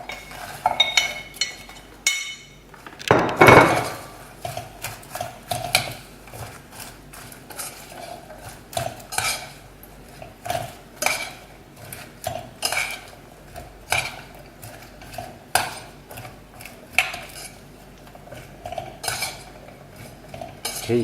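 Popcorn is stirred through hot butter caramel in a metal pan, producing repeated scraping and clinking strokes of a utensil in an irregular rhythm, close and fairly loud, with no speech.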